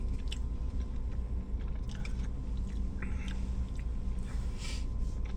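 Close, steady chewing of a Jack in the Box fish sandwich in a slightly chewy wrap, with soft bites and squishy mastication sounds running continuously and no talking.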